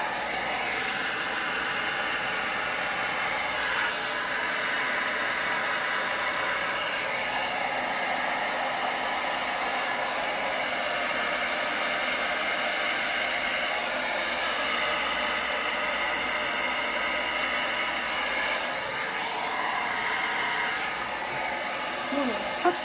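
A blow dryer on a cool, low setting pushes poured paint across a canvas, a continuous close airy hiss and whir holding steady for over twenty seconds.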